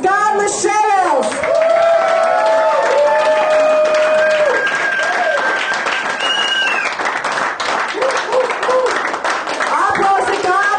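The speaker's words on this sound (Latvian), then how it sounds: "Aplausi Kārlim" Applause at a staff billiard tournament for the third-place winner. Steady clapping continues throughout under a loud voice over a microphone and some music-like tones.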